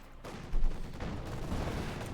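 Machine gun fire in the Company of Heroes 2 strategy game, a dense, muffled crackle of rapid bursts that holds steady for about two seconds at moderate loudness.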